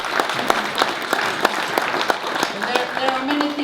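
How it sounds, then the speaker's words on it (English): A company audience applauds in a moderately sized room, with distinct hand claps rising above a steady wash of clapping and some voices mixed in. "I think this is worth an applause"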